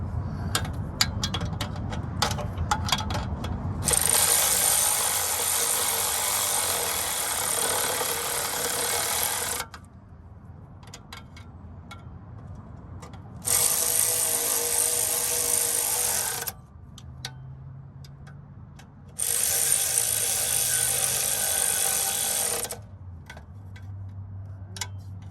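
Power driver run in bursts to tighten the oil pan bolts on a Honda Civic, with three loud whirring spells of several seconds each separated by quieter gaps holding light clicks and handling noise.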